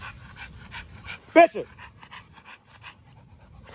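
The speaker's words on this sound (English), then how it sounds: "he's not a mean dog. He's just having fun." A five-month-old dog panting rapidly in steady, close, breathy puffs while a man calls out to it once.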